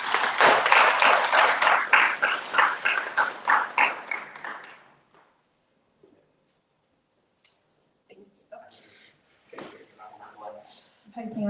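Audience applause for a speaker at a live sociology talk, dense clapping that rises strongly at the start and then thins out to scattered claps and fades by about five seconds, followed by a few faint stray sounds.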